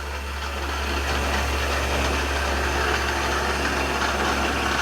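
A hand-cranked flywheel inertia starter on an old abandoned museum car spins up, producing a loud, continuous whirring drone that rises slightly and then holds steady, close by with no talking.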